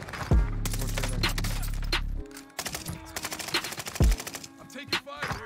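Rapid bursts of automatic gunfire in Call of Duty Warzone on Rebirth Island, loud and close, with sharp cracks and a heavy low thump, over a sustained low hum.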